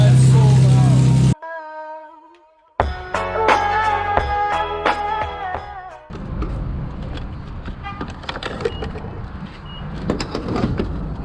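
Nissan 350Z with a newly installed loud aftermarket exhaust, a sudden loud rev that cuts off, then tonal whines and a rough, throaty idle rumble running on to the end, with a few brief clicks.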